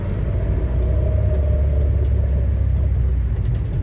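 Early Ford Zephyr MKIV V4 on the move, a steady loud engine rumble and road noise with a faint whine from the gearbox running through it, no talking.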